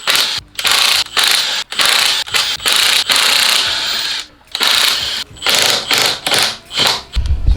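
Impact gun rattling loose intake manifold bolts on a BMW E46 engine during an overhaul, in a string of loud, close bursts of hammering ratchet chatter separated by brief pauses.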